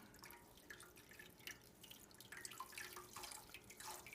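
Faint Swedish glögg trickling and dripping as it is slowly poured over sugar cubes, soft irregular drops and splashes, quiet and close, with no voices.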